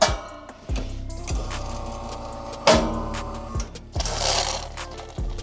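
A Bezzera Mitica espresso machine brews with a steady pump hum and repeated rhythmic clicking pulses, mid-level and close, with no talking.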